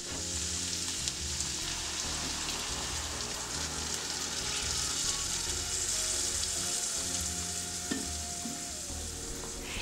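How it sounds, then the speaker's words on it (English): Wine hits a hot skillet to deglaze the browned bits left from cooking, a loud dense sizzle that hisses on without pause, close and with no voices. "Now this is called deglazing the pan."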